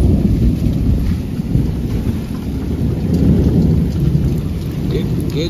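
Heavy rain pours down outdoors in a steady, loud roar of drops hitting surfaces, a thick continuous hiss with low rumbling underneath and no pauses, no voices over it.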